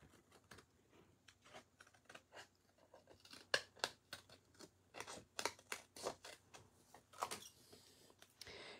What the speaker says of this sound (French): je vais prendre mes autres ciseaux